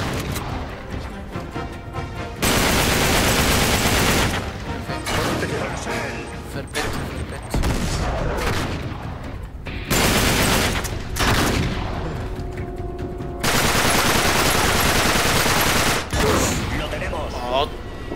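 Loud shotgun blasts and heavy gunfire in Uncharted 3 come in dense, repeated bursts with crashing impacts, and a player's voice is heard now and then.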